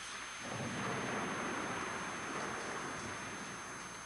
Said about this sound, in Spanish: Relámpagos.